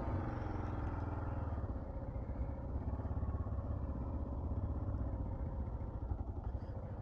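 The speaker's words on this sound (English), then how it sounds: "We got more Harleys over here." Harley-Davidson motorcycles ride along a dirt road near Bartlett Dam, their engines a loud, steady low rumble that runs unbroken from start to finish.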